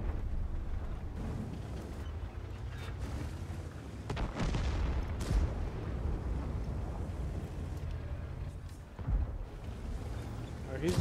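Tank cannon fire in a T-55 tank battle game, heavy booming shots over continuous engine rumble, with a couple of sharper blasts standing out, while someone talks over the action.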